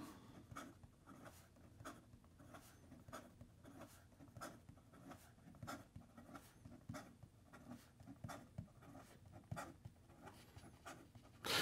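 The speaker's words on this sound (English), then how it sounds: "And then in regard to some fast writing," Quick strokes of a Narwhal Voyage fountain pen with its in-house nib scratching rapidly across paper, a steady rhythm of close, soft scrapes and taps with no talking.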